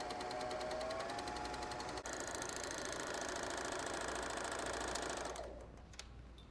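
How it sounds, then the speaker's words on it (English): Babylock Vibrant serger stitching a rolled edge, a rapid, even mechanical whir running steadily for several seconds, close and loud, then stopping near the end. "Isn't that an amazing serger? The Babylock Vibrant"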